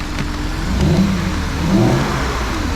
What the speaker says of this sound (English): Rev it again, rev it again.